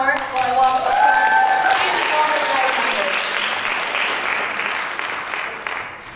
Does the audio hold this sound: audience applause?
yes